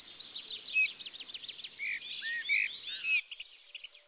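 Insistent bird rallying calls ring out in rapid repeated chirps and whistles near a spot with dead branches, a busy run of calls that ends in a few clipped, sharp notes, no voices.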